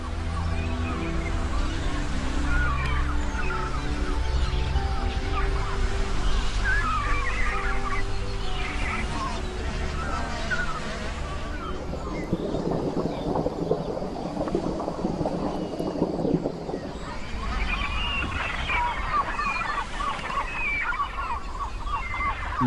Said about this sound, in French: des cormorans, des mouettes du Tibet, des goélands ichthyaètes et des oies à tête barrée qui pondent, couvent et élèvent leurs descendants ici